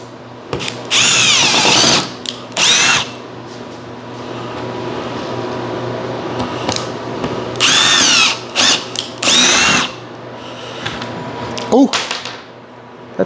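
A power drill boring holes into a wooden work table, loud whining bursts of a few seconds each, separated by pauses filled with handling noise and a brief remark from a person.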